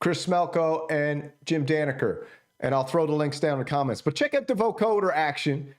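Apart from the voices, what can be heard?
No everyday noises stand out.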